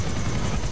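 Black Hawk helicopter in the video game GTA, a loud close rotor drone with rapid rhythmic blade chop, heard alone for under a second.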